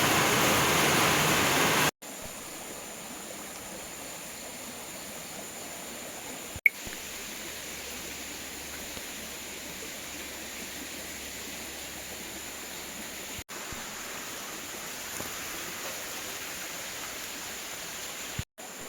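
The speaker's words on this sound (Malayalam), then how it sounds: "ഭയങ്കര മഴ കേട്ടോ" Heavy rain pours in a steady, dense roar that stays constant throughout, broken only by a few brief clicks and dropouts, with no voices present.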